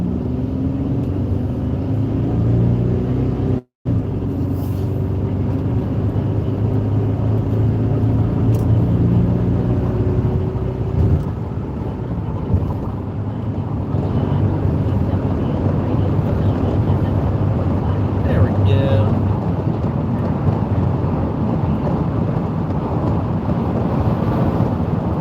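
Car cruising on an open highway, steady road rumble and wind noise inside the cabin throughout, one brief dropout early on, no one speaking.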